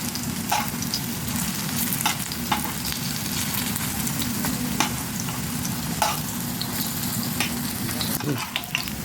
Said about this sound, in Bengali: তেল গরম হয়ে গেছে, এবার আমি ফুলের বড়াগুলোকে একা একা করে ভেজে নেব।